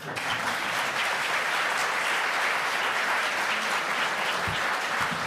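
Applause from the audience at an LSE lecture, a steady, even wash of many hands clapping that holds at a constant level for several seconds.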